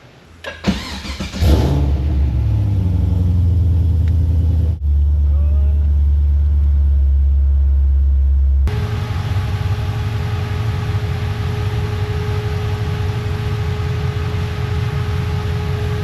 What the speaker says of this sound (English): I'm gonna start the car, turn the AC on